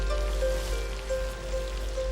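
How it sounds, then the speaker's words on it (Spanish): Heavy rain in the Borneo rainforest, a constant dense hiss of downpour on leaves under a low steady rumble, with a thin sustained tone running through it; no voices. "no para de llover"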